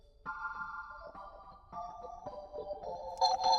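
Low rotor of a Leslie speaker on a B3 organ, sustained organ chords with a slow swirling rotation, moderately loud and alone, a brighter burst joining near the end.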